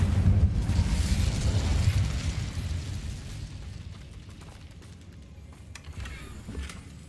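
An Incendio fire spell in Hogwarts Legacy goes off as a loud rumbling burst that fades over several seconds into a low crackling tail with faint scattered pops.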